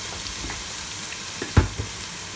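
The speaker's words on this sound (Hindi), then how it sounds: "लहसुन की खुशबू जैसी निकलती है, थोड़ी सी फ्राई होती है" Cumin and garlic frying in a pan for a spiced curry, giving a steady low sizzle with a dull utensil knock about two-thirds through.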